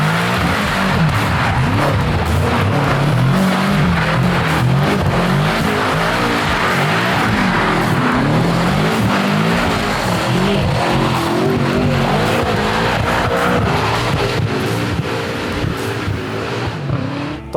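A BMW M5 revving hard and skidding in a field, its engine roaring continuously with rising and falling revs and tyre squeal, loud and close throughout with no speech.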